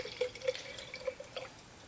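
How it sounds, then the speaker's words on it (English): Homemade beef bone broth poured from a pot into a jar, heard as faint, quiet liquid trickling with a few distinct drip-like plinks, close and alone. "you can see how we're just pouring the broth from the bottom into our jar"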